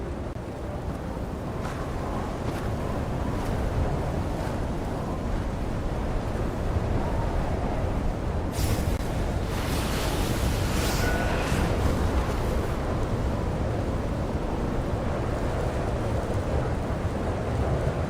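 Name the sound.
storm wind and thunder in video game Genshin Impact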